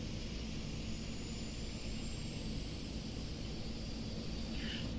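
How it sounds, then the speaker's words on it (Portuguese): Grumman S2T twin-engine aircraft in the FSX flight simulator, its right engine idling at low RPM: a steady, even drone with a constant low rumble and a thin high whine running throughout, with no speech. "Vamos deixar o motor direito estabilizar."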